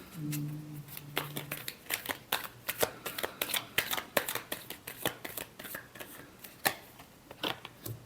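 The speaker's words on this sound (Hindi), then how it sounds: "Last shuffle." Tarot cards shuffled by hand in a quick, close run of crisp riffling snaps and flicks, with a brief low hum at the start and no talking.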